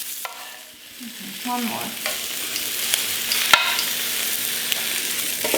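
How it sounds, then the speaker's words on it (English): Peppers sizzle in a skillet beside Armenian eggplant aylazan, a steady frying hiss broken by a few utensil scrapes and clicks, with a brief spoken word near the start. "I'm gonna put some peppers on the other side since I have a space in my skillet."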